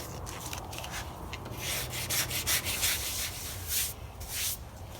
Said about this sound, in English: I'm going to lightly sand.